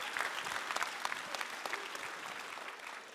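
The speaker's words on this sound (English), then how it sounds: "You can clap." Audience applause fills a church sermon hall, steady clapping from many hands throughout, with no talk over it.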